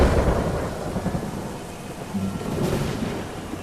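Steady heavy rain falls in a movie scene, with low rolling thunder rumbling underneath and swelling slightly toward the end; no voices.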